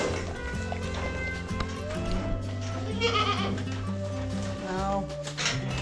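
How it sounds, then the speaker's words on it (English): Goats on a small farm give several faint, wavering bleats at a moderate distance, mixed with tonal background sounds and light tapping, with no clear talking. "Tuffy has got to have his goat treat"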